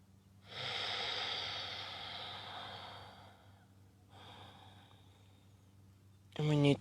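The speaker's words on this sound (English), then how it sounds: "Just that gentle rhythm of your own breathing." Slow, deep breathing during a backyard morning yoga stretch: one long airy exhale, a pause, then a softer second breath, close and quiet, with a voice starting at the very end.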